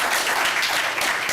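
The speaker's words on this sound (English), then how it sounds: "it's one thing to clap and everything" Audience at a county commission meeting in Seminole County, Florida, applauding: a steady, dense patter of many hands clapping at once, sustained and fairly close, with no talk over it.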